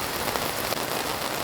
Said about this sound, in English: The rain got you.